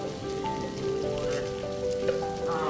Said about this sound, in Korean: 수많은 불자들이 용주사를 찾은 오늘 아침부터 비가 쏟아져 내렸습니다.